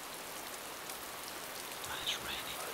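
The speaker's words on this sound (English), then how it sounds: "Ah, it's raining. Lovely." Rain falls in the DayZ game world as a steady, soft hiss of drops spattering on surfaces, faint and continuous throughout, with a few brighter splashes near the end.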